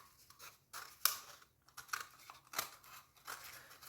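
Scissors snip through fabric while a small handmade doll is trimmed shorter at the bottom, giving several short, crisp cuts at irregular intervals, close and fairly quiet.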